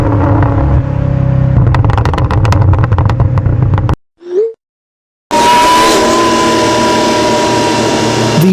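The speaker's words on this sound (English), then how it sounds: "The supercharger's mechanical scream sits on top of an extremely aggressive V8 exhaust, creating that combination of whine, growl, and roar." A supercharged Mercedes E55 AMG V8 roars loudly up close, with exhaust growl and a high supercharger whine, broken by a brief silent gap before the engine noise returns.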